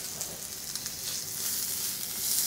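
New York strip steaks searing in a hot pan give off a constant close sizzle and crackle, growing slightly louder toward the end.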